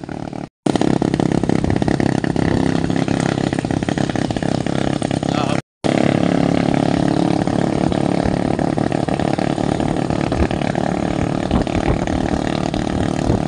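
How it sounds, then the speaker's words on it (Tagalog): A motorcycle engine runs loud and close, a continuous rough mechanical drone with slight rises in revs, cut by two brief dropouts, with no voices over it. "Bukak yung motor."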